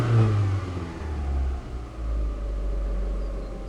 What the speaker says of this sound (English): Still revving high, although she's cooled down a bit now because I've been tinkering so long.